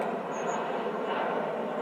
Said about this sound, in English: The train track